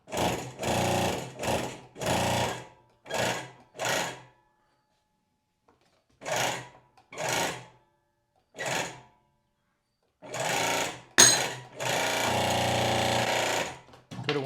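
A VEVOR CH-60 hydraulic hole punch works on quarter-inch steel plate: a series of separate ratcheting pump strokes, a pause, more strokes, then a sharp crack as the punch breaks through, followed by a sustained mechanical rattle.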